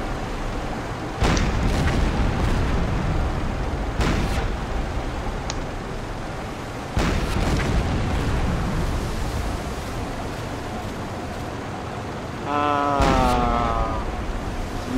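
Heavy booming naval deck gun shots from the submarine game Silent Hunter 3 ring out several times, spaced a few seconds apart, each followed by a rumbling tail over a constant engine-like drone.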